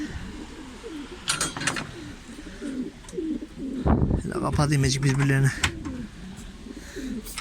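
Male pigeons coo nearby in low, throaty bursts while a person talks over them.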